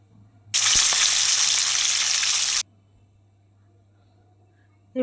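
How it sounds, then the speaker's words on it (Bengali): Rohu fish pieces frying in hot oil, a loud steady sizzle lasting about two seconds that then cuts off abruptly, leaving near silence. "এইভাবে একে একে মাছগুলো আমি ভেজে নিচ্ছি।"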